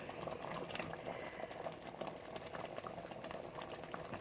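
She crab soup with lump crab simmering in a pot as the roux thickens the broth, a soft continuous bubbling with small pops, close and quiet, no voices.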